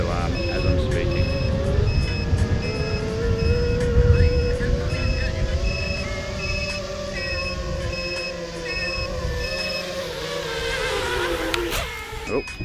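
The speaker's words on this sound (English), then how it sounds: "There you go, voltage alarm as I'm speaking." Repeated electronic beeping from the battery voltage alarm of an Eachine Wizard X220 FPV racing drone, a steady pulsing tone over continuous outdoor wind and motor noise, with someone talking throughout.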